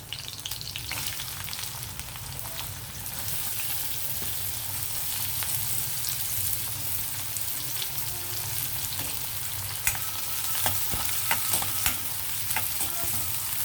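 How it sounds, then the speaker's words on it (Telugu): Garlic, cumin seeds and onions fry in a pan, giving a steady, close, loud sizzle throughout, with scattered clicks of stirring growing denser near the end; nobody speaks. "వెల్లుల్లి వేగాయి, జీలకర్ర వేసాను, అది కూడా కొంచెం ఫ్రై అయ్యింది కదా. ఇప్పుడు మనం ఉల్లిపాయలు వేసాం."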